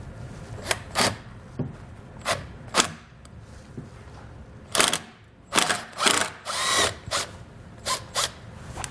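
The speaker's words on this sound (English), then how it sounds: "We'll use a 10mm socket to remove both of those." A 10mm socket on a power driver removes painted bolts during a nerf bar install, short whirring bursts and ratcheting scrapes repeated at close range, with no talking.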